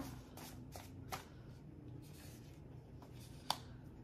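A tarot deck shuffled by hand nearby, soft papery riffles and slides in short bursts, ending with a sharp card snap, in an otherwise quiet room.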